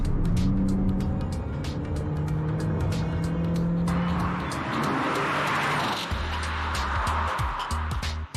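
The 1.5 litre turbo engine of a Skoda Octavia revs hard while driving, its loud, rising drone climbing in pitch, then dropping as a gear changes before rising again, with tyre and road noise underneath.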